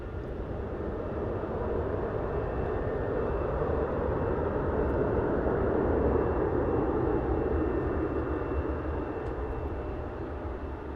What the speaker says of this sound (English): Checking out the A321 landing there.